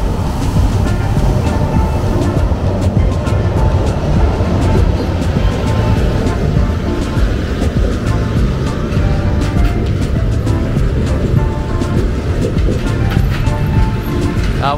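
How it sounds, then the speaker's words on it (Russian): A Chita–Moscow passenger train rumbles past nearby as it arrives at a station, with steady heavy rolling noise and rhythmic clicks of wheels over rail joints, loud throughout. "А вот и поезд приехал наш."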